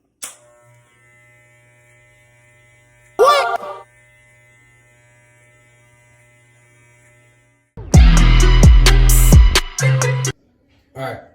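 Hair clippers run in bursts during a self-administered fade haircut, with a loud close buzz late in the clip after quieter stretches, and brief sounds of a voice in between.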